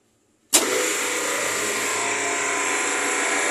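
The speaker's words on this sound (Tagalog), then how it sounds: "So tingnan natin kung ang ating compressor ay andar." A 30 hp storage compressor kicks on abruptly, then holds a steady, loud mechanical hum and hiss that continues unchanged, with no voices over it.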